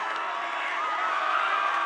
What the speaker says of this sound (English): There's the crowd on the home side, Mill Valley, the home team